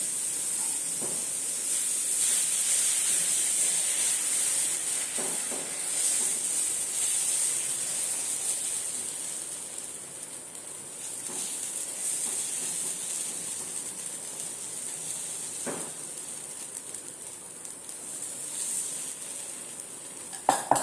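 Fenugreek leaves cook in oil in a pan with a long, steady hiss of sizzling, moderately quiet, with occasional faint scrapes of a spoon and no voices.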